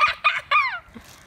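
A hen gives three quick, loud, close clucking squawks in a row, then a fainter call trails off.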